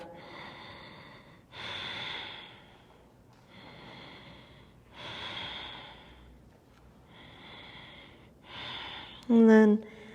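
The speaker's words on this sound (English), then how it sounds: "Staying with that fluid Ujjayi breath." Fluid Ujjayi breathing during a yoga practice, a series of slow, close breathy inhales and exhales with a soft oceanic rasp, evenly paced, ending in a brief higher-pitched vocal sound.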